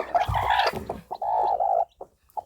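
Close clucking and chirping from hens with two freshly hatched chicks in a poultry pen: bursts of hen clucks, then a run of higher sustained peeping calls with short chirps after, all without any talk.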